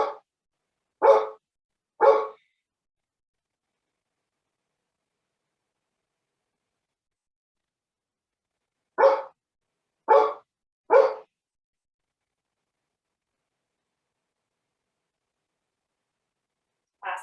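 A pet dog barks indoors during a yoga session, in short clusters: two barks, a long silence, then three more and a final one at the end, moderately loud and close with no other sound.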